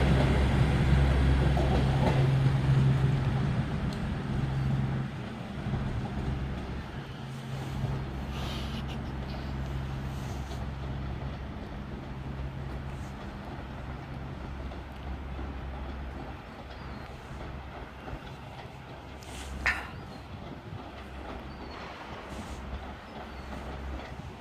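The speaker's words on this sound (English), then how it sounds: "And arriving in now, we're going to have the delayed 11:11 Transpennine service to Glasgow." A delayed TransPennine service to Glasgow rolls into Carlisle station, a steady low rumble of engine and wheels that gradually eases and fades over about twenty-five seconds, with a brief clank near the end.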